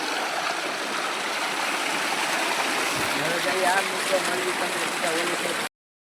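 Steady broadband rush of water gushing forcefully and continuously from a farm pump, loud and close, with a voice speaking over it.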